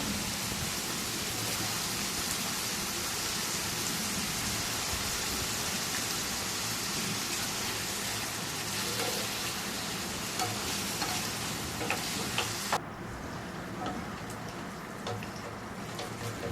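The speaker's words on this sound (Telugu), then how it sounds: "ఆలుని మధ్య మధ్యలో కలుపుకుంటూ ఫ్రై చేసుకోవాలి" Cut potatoes frying with onion in a pan for an aloo gongura dish, a dense, steady sizzle like rain that carries on throughout, with occasional stirring clicks and a sudden drop in the hiss near the end.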